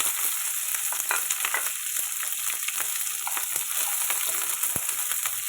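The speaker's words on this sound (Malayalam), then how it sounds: "ഒരു മീഡിയം സൈസ് സവാള ചെറുതായിട്ട് അരിഞ്ഞതും 3 പച്ചമുളകും കൂടിയാണ് ഇടുന്നത്" Chopped onion and green chillies sizzle steadily in hot oil after mustard seeds have popped, a constant close frying hiss with occasional sharper crackles and stirring scrapes throughout.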